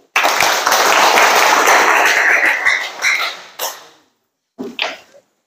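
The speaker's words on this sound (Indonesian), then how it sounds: "Ya, tepuk tangan." A military training class of enlisted recruits bursts into loud close applause for several seconds, tapering off, followed by a brief second flurry of clapping.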